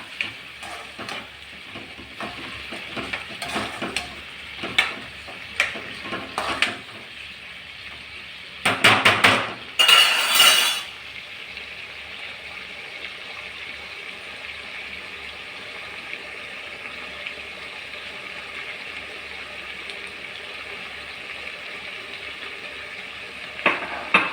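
In a pot, soaked toor dal and parboiled rice are mixed with a spoon, producing repeated clattering scrapes and knocks, two louder rough bursts midway, then a low steady background hum.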